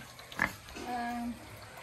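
Pig grunts in a backyard pig pen, one short rough grunt followed by a longer drawn-out call, close by and fairly quiet with a little background noise.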